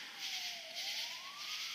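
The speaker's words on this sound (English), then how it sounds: "Oh my God, now there's sirens." A siren wails nearby, its pitch sweeping down and back up in a continuous rising-falling tone with no talking.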